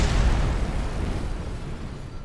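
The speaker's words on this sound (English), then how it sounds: "more explosions" Rocket exploding in the Kerbal Space Program video game: a heavy low boom that starts loud and rumbles off gradually over a couple of seconds, with no talk over it.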